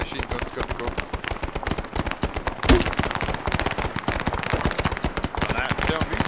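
A belt-fed machine gun in ArmA fires long, sustained automatic bursts, with a steady rapid rhythm of sharp, loud reports close by and one especially heavy blast midway.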